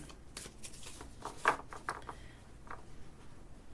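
Oddly shaped cards being shuffled by hand produce a series of soft riffling bursts and shuffling swipes, close and quiet, with one sharper flutter in the middle.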